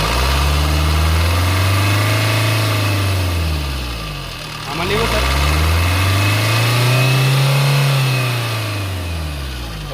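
A 2018 Maruti Baleno diesel car engine idles with a steady low rumble, then revs up in two slow rising and falling surges, close and loud, while someone speaks briefly.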